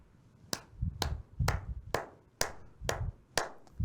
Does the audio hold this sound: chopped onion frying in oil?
no